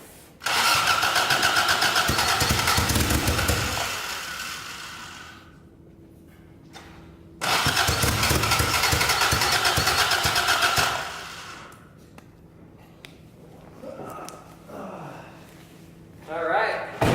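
A rebuilt Toyota AE86 engine cranks and catches in two loud, sustained bursts of starting and revving, then settles into a quieter, uneven running rumble, close by, with people talking around it.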